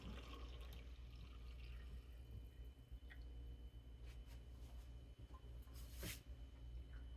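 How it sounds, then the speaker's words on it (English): Water is poured into a teeny, lightweight pot, a faint steady trickle and splash with a few brief drips and clinks, heard close and quiet with no talking. "I'm going to go ahead and pour the water in there."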